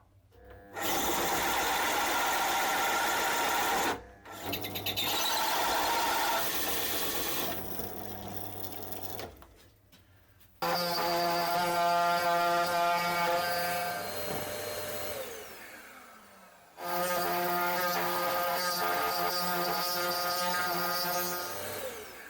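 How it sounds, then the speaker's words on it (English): A bandsaw runs loud and steady in bursts, with several brief stops and restarts, cutting slots into side panels for a phone, speaker and USB hub stand; no one speaks. "I really like to use this bandsaw."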